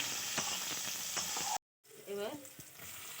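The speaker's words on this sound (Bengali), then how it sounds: "রসুন ভাজা হয়ে গেছে লাল হয়ে গেছে" Whole garlic cloves, onion and green chillies fry in hot oil, a close, steady crackling sizzle with a brief silent gap and a faint voice afterwards.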